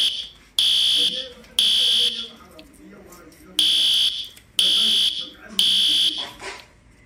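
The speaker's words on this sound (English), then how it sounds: "today we're going to be activating the fire alarm," Building fire alarm sounding during a test: loud repeated high electronic tones in about half-second bursts, five in a row with short gaps, while a dog barks and voices murmur underneath.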